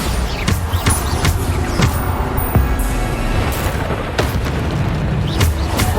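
Bombarda explosion spells from Hogwarts Legacy go off as repeated heavy booms, dense and loud, one blast after another with rumbling game noise between.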